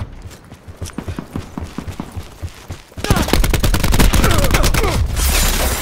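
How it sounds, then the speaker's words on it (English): Rapid automatic gunfire from a fast-firing gun in Call of Duty Black Ops 4: a quick, steady stream of close, sharp shots, lighter at first and then much louder and denser for the final seconds. "This gun fires too fast."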